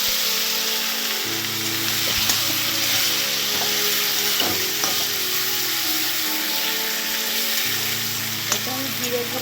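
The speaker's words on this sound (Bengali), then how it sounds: "আলুটা ভাজা ভাজা হয়ে যাচ্ছে লাল লাল করে।" Potatoes frying in a pan, a steady dense sizzle with occasional crackles and spatters, close and continuous.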